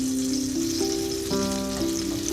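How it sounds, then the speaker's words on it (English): Two tablespoons of butter melting in a frying pan beside olive oil, sizzling steadily and fairly loudly with a continuous crackling hiss and a faint tonal hum underneath. "So I'm going to put 2 tablespoons of butter here."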